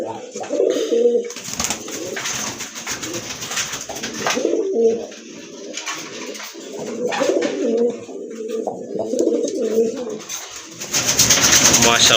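Pigeons coo in soft, repeated throaty bursts, close and fairly loud, with brief pauses between calls and some background voices and noise around them.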